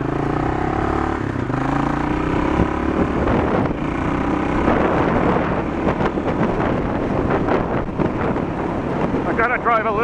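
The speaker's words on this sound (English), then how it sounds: "It is really windy today." Strong wind roars and buffets the microphone throughout while a Honda XL 250 motorcycle is ridden, the engine rumble mixed into the constant gusty noise.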